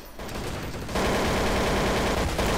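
Gunfire in Counter-Strike Source gun game, a dense rapid burst of shots that turns louder and more continuous after the first second, with no talking.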